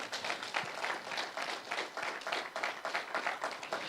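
Congregation clapping and applauding during a church service, a dense steady wash of many hands from a fairly close crowd, continuous throughout with no talk over it.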